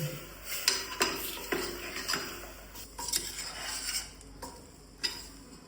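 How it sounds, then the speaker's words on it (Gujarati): A spoon stirs and scrapes spices in a metal pot for stuffed eggplant, with irregular close clinks and swishes against a quiet kitchen background. "પછી બધું બરાબર મિક્સ કરી લેવાનું છે."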